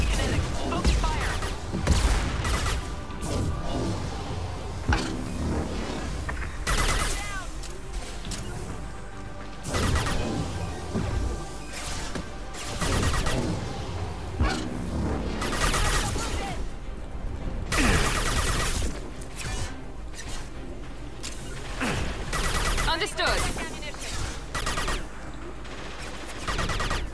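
Sustained gunfire in the sci-fi shooter game Mass Effect 2, dense bursts and rapid volleys of weapon shots with crashing impacts running continuously through a loud combat scene, with occasional voices under the shooting.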